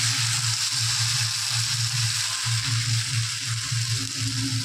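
Spice paste with cardamom and garam masala sizzling steadily in hot oil for a Bengali fish curry, a constant close frying hiss under a low hum, no talking.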